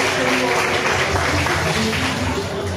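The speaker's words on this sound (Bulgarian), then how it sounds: "Аплодисменти." Applause greets a girl named Miss Aphrodite at a 2025 Bulgarian high school graduation ball, where she receives an award certificate; a steady, dense wash of clapping fills the room with crowd noise.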